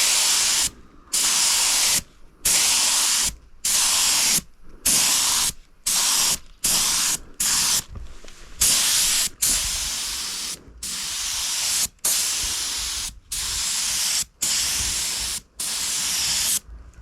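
A spray gun lays on metallic green paint in a series of loud, close hissing bursts, each a second or so long and cut off by short pauses, with no voices.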